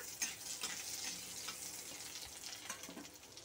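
Whole cumin seeds with dried red chillies sizzle and crackle steadily in hot oil in a pan, with a broad continuous frying hiss and occasional soft stirring scrapes, close and fairly loud, no voices.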